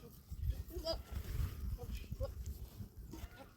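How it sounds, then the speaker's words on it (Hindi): Goats bleat intermittently while a Gaddi shepherd milks them high in the Himalayas, faint, quiet calls scattered among low rustling and soft human talk. "ये देखो कैसे दूह रहे हैं बकरी।"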